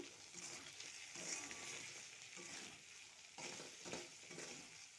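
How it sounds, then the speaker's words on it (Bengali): Chana dal with bottle gourd, turmeric and chilli powder is stirred in a frying pan, making a soft, continuous sizzle. Scraping strokes swell and fade in an uneven rhythm. "এবার ভালো করে নেড়ে নেব।"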